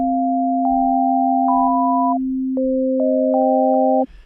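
Pure sine-wave tones from a synthesizer build up into a chord, a steady low note held throughout while higher notes enter and shift in stepped layers, clean and sustained, ending abruptly after about four seconds.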